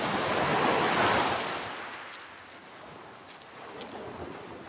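Waves wash onto a beach in a steady, broad roar that swells and then eases, with some wind noise and no voices, in the late afternoon.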